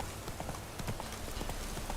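Roach the horse galloping in The Witcher 3, a rapid, steady run of hoofbeats close and loud for a couple of seconds.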